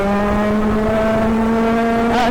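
A homebuilt go-kart's small engine buzzing loudly at high, steady revs with a strong droning pitch, close up, holding throughout with a slight rise at the end.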